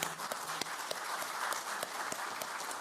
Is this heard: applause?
yes